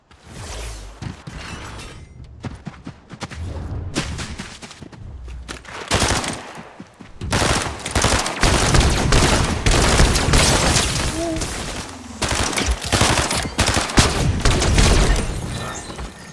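Enemy gunfire in a video game, long loud stretches of rapid automatic shooting with crashes and booms mixed in, dense and nearly continuous in the second half, with some talking over it.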